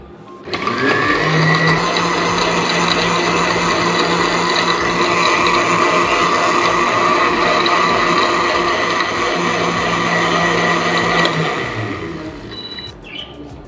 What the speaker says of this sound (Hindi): कोको पाउडर और क्रीम डाल दी है, इसको ब्लेंड कर लेना है तकरीबन 30 सेकंड के लिए।